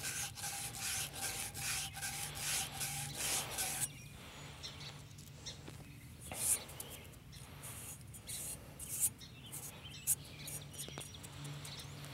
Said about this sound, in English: And we want to sand both sides of that pipe.